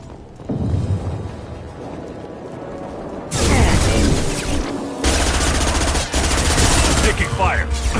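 Heavy automatic gunfire in a PS4 shooter, loud rapid bursts that swell into dense sustained firing with booming impacts, continuous across the stretch, a voice briefly heard amid the shooting.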